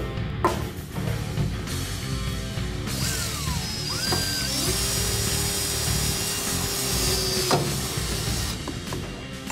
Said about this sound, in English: Now we need to drill a hole in the front lip of the fuel tank mounting area.